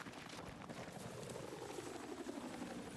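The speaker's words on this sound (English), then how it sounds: "Someone's in a chopper." A helicopter flies nearby in the video game Battlefield 6, its rotor heard as a faint, steady throbbing drone that stays level and continuous without any talk over it.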